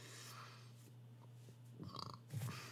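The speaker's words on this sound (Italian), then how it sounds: "Si continua a ruttare." A person burps twice in a cold room, with low rumbling bursts near 1.8 and 2.4 seconds over a steady background hum, close to the microphone and with no speech.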